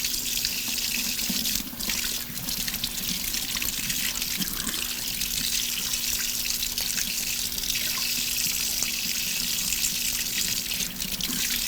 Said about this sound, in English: let me rinse this one off too